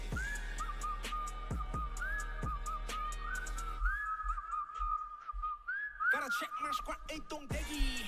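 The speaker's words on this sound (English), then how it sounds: "Whistling, whistling, whistling, whistling, whistling, whistling, whistling, yeah." A person whistles a sustained, wavering melody with sliding notes, held steady and close for most of the stretch, with brief breaks and faint background thuds.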